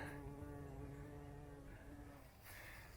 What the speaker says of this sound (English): Look at you, little bee.